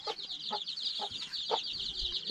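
Small chicks in a Darjeeling village yard cheep in a steady stream of thin, high peeps. Four soft, lower clucks from an adult hen come at regular half-second intervals, all fairly quiet and close.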